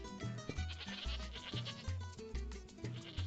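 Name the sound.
goats bleating in the video game Tropico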